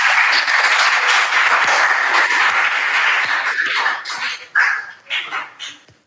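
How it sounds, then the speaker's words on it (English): Applause from a school audience for a student at a basic school competition fills the scene, a loud dense clapping that holds steady and then thins into scattered claps as it dies away. "And please clap for her."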